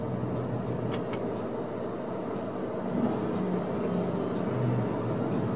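A MAN TGX 28-440 truck's three-stage engine brake drones in a low, steady rumble that swells slightly midway, heard from inside the cab.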